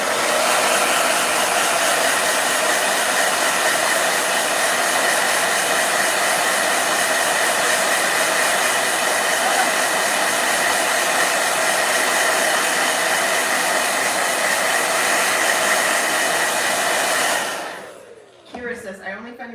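A blow dryer runs continuously at close range with a steady, loud whooshing roar that cuts off near the end, followed by faint handling noise.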